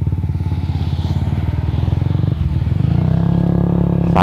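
A motorcycle rides through a patch of mud, its engine chugging loudly and steadily up close with a rhythmic pulse, the pitch rising slightly toward the end.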